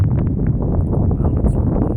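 Strong gusting wind blows outdoors ahead of a rainstorm, a loud continuous low roar buffeting the microphone for the whole stretch, with no voices.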